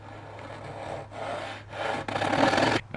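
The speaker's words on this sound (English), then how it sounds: "But I think if I'm careful, I should be able to saw it without buckling it." A hand saw works through very hard wood for a scale model ship, with close, steady back-and-forth rasping strokes that grow louder toward the end; no one speaks.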